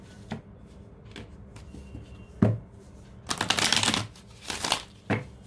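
Tarot cards are shuffled in short bursts, with a few soft taps and riffles followed by two louder, longer riffling flurries close to the microphone.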